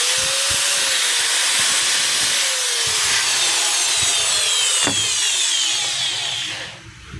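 A corded Ingco 1/2-inch hammer drill with a faulty chuck runs steadily at high speed after being plugged in, a continuous close whine that holds for about six seconds before winding down.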